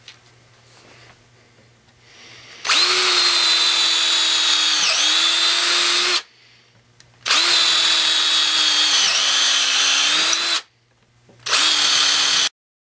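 A Bosch DDS181-02 cordless drill bores into a wooden board in three loud, close bursts of steady whirring, with short quiet gaps between them.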